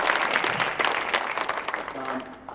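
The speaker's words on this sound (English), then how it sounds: "Give yourselves a round of applause" Members at a community land trust gathering applauding themselves, a dense crowd clapping that fades over a couple of seconds, with voices mixed in beneath it.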